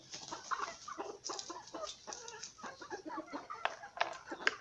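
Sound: chickens clucking

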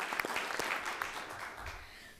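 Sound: applause for sponsors at a school board meeting

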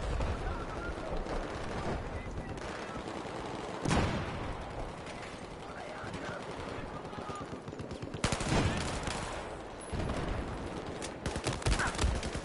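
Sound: gunfire in video game Battlefield 4

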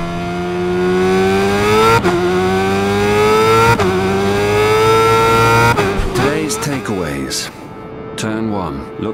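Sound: motorcycle engine revving in video game RIDE 5

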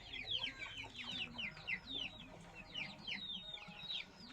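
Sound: brooding hens clucking

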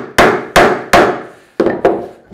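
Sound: mallet striking a chisel to cut a wood mortise

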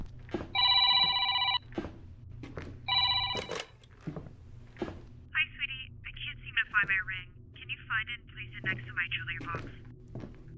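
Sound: telephone ringing

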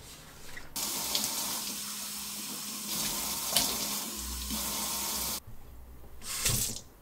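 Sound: cleaning a kitchen sink with running water

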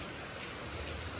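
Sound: continuous rain falling

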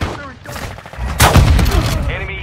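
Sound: gunfire in Warzone Mobile video game

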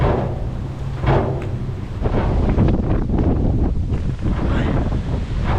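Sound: strong wind

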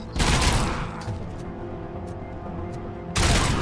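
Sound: gunfire in RoboCop: Rogue City video game

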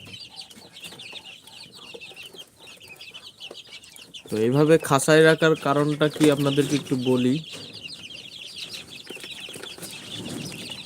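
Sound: desi chickens clucking

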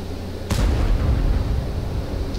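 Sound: tank gun firing in video game World of Tanks

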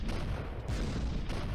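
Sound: tank firing a shot in video game Shellshock Live 2

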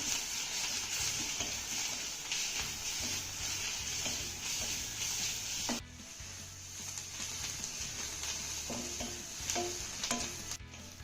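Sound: crushed green chili thecha frying with gram flour in pan

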